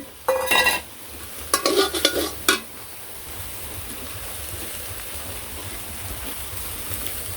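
Onion, garlic and black cumin frying in a pan in a village kitchen, a soft continuous sizzle after a few sharp scraping stirs at the start, quiet and steady.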